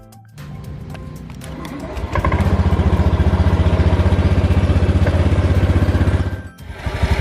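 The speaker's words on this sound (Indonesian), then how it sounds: "Jadi seperti ini teman-teman suara mesin dari Beat Street Old." A Honda Beat Street scooter engine, older model, starts and settles into a steady, throbbing idle, loud and close, before briefly dipping near the end.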